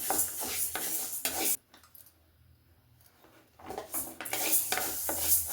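Barley grains being dry-roasted and stirred in a pan for homemade malt, a steady scraping rustle that pauses briefly in the middle before resuming.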